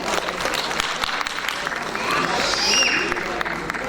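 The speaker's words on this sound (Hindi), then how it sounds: "एक बार फिर तालियों के साथ हम अभिवादन करें।" Audience at a Hindi literary award ceremony applauding an honoree, dense loud clapping across the hall with a murmur of crowd voices underneath.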